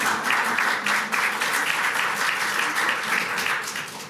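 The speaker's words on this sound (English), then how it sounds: "You can applaud now." An audience at a League of Women Voters judicial district candidates forum claps, dense rhythmic applause sustained for about four seconds and tapering slightly, with no talk over it.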